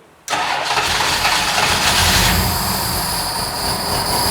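Classic car engine fitted with DIY fuel injection, starting abruptly and then running steadily and loudly at close range, a dense continuous roar with a sharp rise at the start and no talk.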